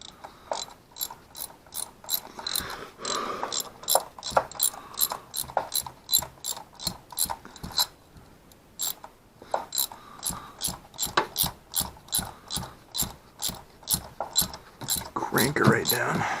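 A ratchet wrench tightens a spark plug on a 2004 Honda Odyssey, giving a close, rapid series of sharp clicks in repeated bursts, with a little faint background noise.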